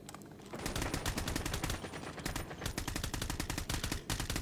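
Rapid automatic gunfire in the video game Call of Duty, dense bursts of shots rattling almost continuously, sharp and fairly close over a busy in-game background.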